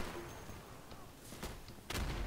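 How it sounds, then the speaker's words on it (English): Gunfire in the tactical shooter Insurgency, a few sharp far-off shots cracking over a low hum, with a louder burst near the end and no talk. "The gunshots are really loud in this game."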